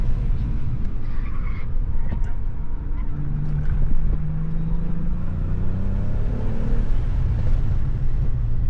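A Cadillac CT4-V Blackwing laps Nashville Superspeedway, its engine a loud, continuous in-cabin rumble whose pitch climbs and falls through shifts, with road and tire roar underneath.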